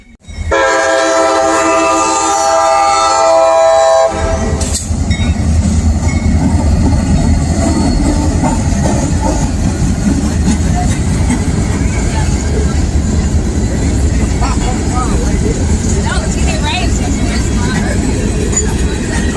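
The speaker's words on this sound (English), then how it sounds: "So, train's coming!" A train rolls through a railroad crossing in Fairport on a summer afternoon, its loud horn sounding near at the start, followed by a long steady rumble of cars passing close by.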